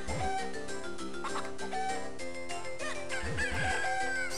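A golden chicken crows in The Legend of Zelda: The Minish Cap amid busy game music and electronic sound effects, the crowing rising clearly above the layered background.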